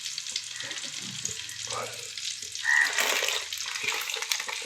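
Fish frying in oil in a pan, a continuous crackling sizzle at close range that swells briefly midway, with faint voice-like sounds underneath.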